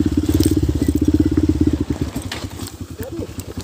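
A trail motorcycle engine pulsing in a rapid, throbbing putter, close and loud, then easing into a lower, uneven chug; a voice speaks briefly near the end.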